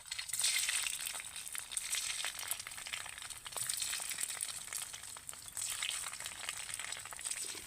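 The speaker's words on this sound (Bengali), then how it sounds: "এবার পনিরগুলোকে আস্তে আস্তে তেলের মধ্যে দিয়ে দেবো" Homemade paneer made from bottle gourd fries in hot oil in a kadai, giving a steady, close, even hiss with faint crackles throughout.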